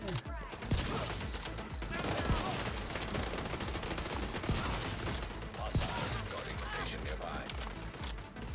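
Dense turret gunfire in the video game The Division 2, rapid continuous automatic bursts and sharp shots with in-game mechanical clatter, loud and sustained, with a voice talking over it.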